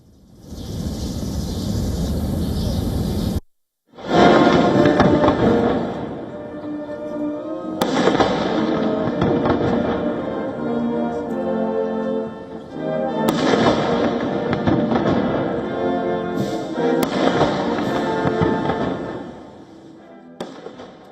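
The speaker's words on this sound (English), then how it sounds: "Trump, alongside Xi, inspected military honor guards and received a 21-gun salute" Ceremonial 21-gun salute for Trump at a welcome ceremony in Beijing, heavy artillery booms recurring every few seconds, each followed by a long echoing rumble, loud and outdoors, with a brief sharp cut in the sound early on.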